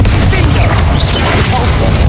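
The Confringo explosion spell detonates in Hogwarts Legacy, a loud, dense, booming blast that fills the short moment with a heavy low rumble.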